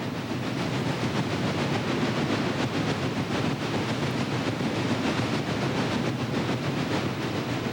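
A Chesapeake and Ohio 2318 steam locomotive hauls a westbound coal train at Columbia, a steady loud rumble of rolling wagons with rhythmic clanking and hiss, no voices.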